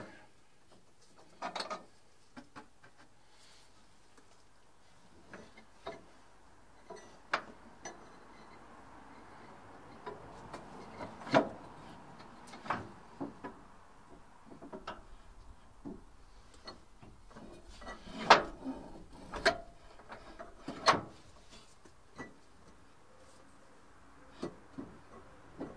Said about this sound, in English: So I've slid the torsion bar all the way back into the adjuster.